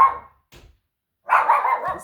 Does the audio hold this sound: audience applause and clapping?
no